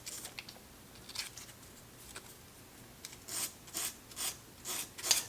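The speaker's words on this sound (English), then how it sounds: "I think I'm going to use just a little bit of sandpaper and freshen it up" Light hand sanding with 220 grit sandpaper on a vintage 1963 EICO 1064 power supply, giving faint, soft scratchy strokes that come in short bursts and grow a little more frequent toward the end.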